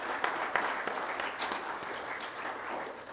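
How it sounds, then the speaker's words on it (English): A church congregation at a Baptist gathering claps in a warm round of applause, a steady patter of many hands at moderate loudness that tapers slightly toward the end. "Let's give him a good round of applause."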